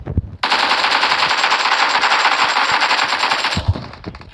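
Sustained machine gun fire in a video game, a loud, dense rattle of rapid shots lasting about three seconds with a few scattered shots after, no talk over it.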